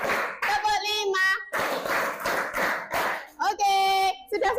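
A group claps hands in a counted classroom pattern, with sharp bursts of applause falling between loud chanted voices throughout.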